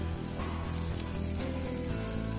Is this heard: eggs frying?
yes